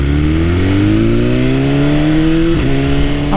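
A BMW S1000RR sport motorcycle's engine drones loudly and steadily while riding, its pitch climbing gradually with a brief dip near the end as the bike keeps pulling.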